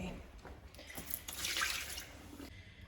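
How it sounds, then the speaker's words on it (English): Water runs from a tap in a steady hiss that swells and fades over a few seconds, with faint background sounds. "Gotta fill up some water."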